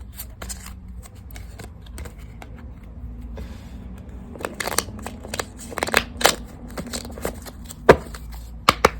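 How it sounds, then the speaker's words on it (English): Tarot cards shuffled by hand, a soft rustle that builds into a run of crisp, close riffling bursts and slaps toward the end, with no talking. "I'm just shuffling"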